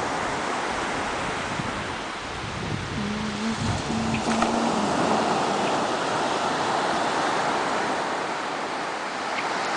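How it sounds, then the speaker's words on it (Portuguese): Ocean surf at Jurerê Internacional beach in Brazil roars in a continuous broad wash of waves, loud and steady throughout, with a brief faint tonal sound in the middle. "Na praia, praia de Jurerê Internacional."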